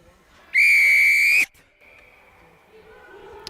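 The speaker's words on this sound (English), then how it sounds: "Whistle being blown." A referee's whistle opens a women's rugby match between the Pumas and the Griffons in the Mbombela area: one loud, sustained shrill blast of about a second, followed by faint crowd ambience.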